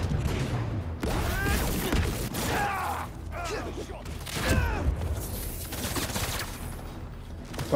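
Sniper gunfire in the Spider-Man 2 video game, a dense run of sharp shots and impacts over continuous action noise, with voices talking and shouting throughout.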